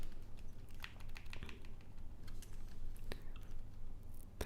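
Rapid clicking keystrokes as code is typed on a computer keyboard, a steady stream of quiet close-up taps with a few short pauses over a low background hum.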